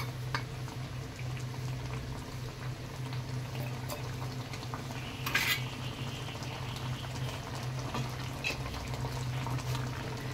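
A pabda fish curry with mustard-poppy paste bubbles steadily in a pan on a gas stove, a soft continuous simmering close by with one brief clink partway through.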